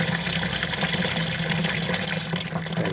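Water pours steadily into the tub of an Innovex DSAN-65 semi-automatic washing machine, a continuous close rushing and splashing with a low hum underneath.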